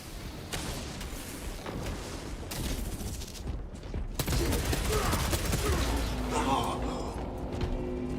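A frag grenade and rapid gunfire in the Warhammer 40K video game Space Marine, dense bursts of shots and a booming blast crackling close amid battle noise, with voices speaking over it.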